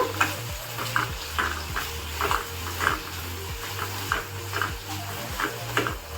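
Eggplant sautés in a pan, a soft sizzle under regular, rhythmic scrapes of a spoon stirring it, with a low humming drone underneath, close and steady.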